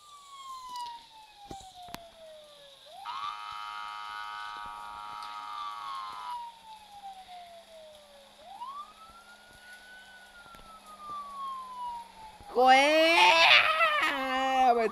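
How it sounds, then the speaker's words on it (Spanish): Police car sirens in a video game set in a city, wailing in long rising and falling sweeps, loud and close, ending in a burst of harsher layered tones. "Encendamos las sirenas, gente."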